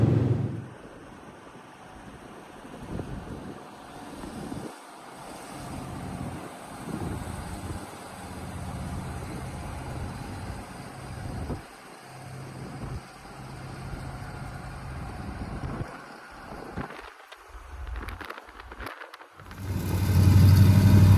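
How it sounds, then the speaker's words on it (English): A slammed dually pickup truck cruises on a road test, giving a steady low engine and road rumble with wind noise inside the cab, swelling louder toward the end, with no talking. "I'm really liking the way this truck is cruising around"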